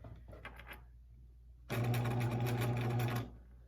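A sewing machine overcasts the edge of a lounge pants fabric seam. A few faint clicks come first, then one loud, rapid burst of stitching runs for about a second and a half and stops.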